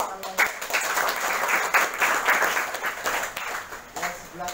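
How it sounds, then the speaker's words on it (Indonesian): An audience breaks into steady applause, dense clapping that holds fairly loud for several seconds, with people's voices mixed in at a water rescue training gathering. "Tepuk tangan buat Mas Cecep."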